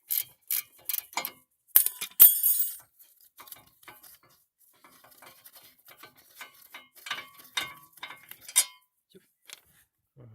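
Sharp ratchet clicks and metallic clanks come in short bursts, with a quicker run of clicking, while brake caliper bolts are loosened on a Peugeot 508 during a brake disc and pad change. Quieter scattered tool taps and handling noises follow.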